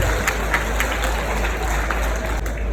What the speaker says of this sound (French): Je voudrais que vous applaudissiez les initiateurs.